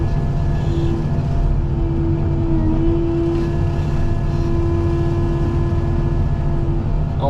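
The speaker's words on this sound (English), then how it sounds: "Only reason that engine's getting pulled down is because I'm having to swing uphill a little bit." A brush-clearing machine's engine drones steadily and loudly while swinging uphill, its steady low roar carrying a sustained tonal hum as the engine is pulled down under load, with no pauses.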